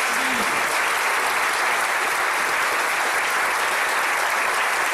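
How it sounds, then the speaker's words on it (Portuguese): A church congregation at a communion service applauds in a dense, steady wash of clapping, loud and sustained throughout. "Mais uma vez vamos aplaudir o Senhor, meus irmãos."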